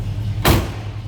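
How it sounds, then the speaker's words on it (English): On a 1959 Chevrolet two-door hardtop, a door shuts once with a solid, close thud while the engine rumbles steadily underneath. "Nicely that door closes."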